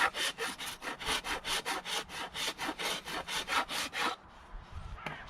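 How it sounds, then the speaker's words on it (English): A rasp worked back and forth along a wooden axe handle, shaping it to fit the axe head: about fifteen even, rhythmic rasping strokes, close and loud, then stopping abruptly into quiet. "when you're getting close to the final, I just rasp on straight, and that keeps it more even"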